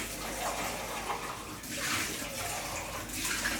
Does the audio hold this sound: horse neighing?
no